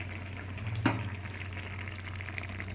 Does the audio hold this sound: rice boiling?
yes